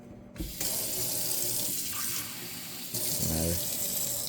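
A kitchen tap runs steadily into a bowl or sink, filling water to soften frozen fish balls for noodles. The gushing is loud and continuous, with a few brief clunks as the stream shifts.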